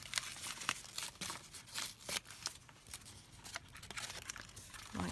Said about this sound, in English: So just going to tear that like that